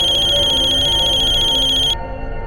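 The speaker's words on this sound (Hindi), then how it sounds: "वीरेन, तुम्हारा फोन।" An electronic telephone ringtone trills loudly and steadily up close in a crime-drama scene, a bright warbling tone that cuts off abruptly near the end.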